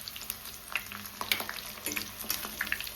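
Chicken pakoda pieces frying in hot oil, a quiet crackling sizzle with scattered sharp pops and spatters, steady and close.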